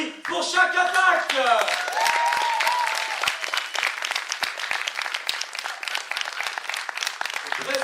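At a Chakatak poetry slam event in Clermont-Ferrand, a crowd applauds loudly with dense, continuous clapping and cheering for several seconds. A voice carries over the start of the noise.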